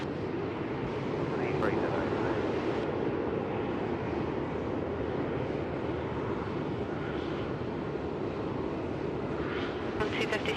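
Rex Airlines airliner approaching to land at Melbourne Airport on runway 34, a steady broadband engine roar swelling at a distance over wind noise, with faint voices in the background.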